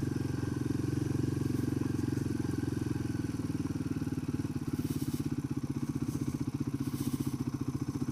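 A Royal Enfield Himalayan 450 motorcycle ridden in second gear, a loud close steady engine throb with rapid pulsing beats, rising and easing slightly as the bike rolls along.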